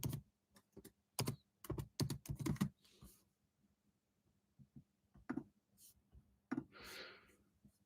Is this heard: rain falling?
no